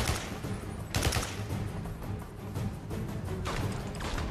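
Rapid gunfire bursts and single shots from the PS3 game 007 Blood Stone crackle loudly and almost nonstop, with sharper blasts standing out near the start and end.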